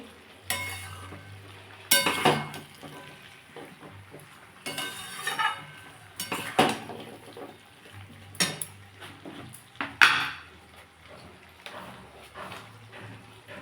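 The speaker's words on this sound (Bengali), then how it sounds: "এবার এই থেতো করে রাখা আমগুলো দিয়ে দেবো এটা করে আমগুলো দিয়েও আমি ভালো করে নাড়িয়ে নেবো" A spoon clatters against a pan while crushed mangoes are stirred in oil for mango pickle, giving irregular scraping and clinking strokes with light sizzling between them, close and fairly loud.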